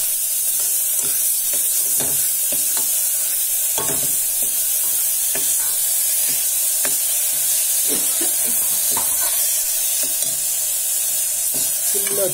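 Tomato and masala fry loudly in a pan for a chow chow gravy, with a constant bright sizzle and occasional scraping stirs layered on top, with no one speaking.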